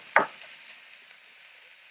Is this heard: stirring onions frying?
yes